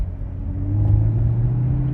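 An unmodified 2017 Chevrolet Camaro SS 1LE engine hums close by, its pitch climbing slightly as it revs, then holding a steady growl.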